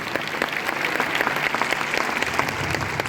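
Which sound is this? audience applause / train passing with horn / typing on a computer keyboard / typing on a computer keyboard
audience applause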